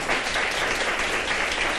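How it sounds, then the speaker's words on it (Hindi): Studio audience on a televised morning show breaks into loud, steady applause, a dense wash of clapping that holds evenly for the full length with no voices over it. "तालियां ही बजा रहे कोई"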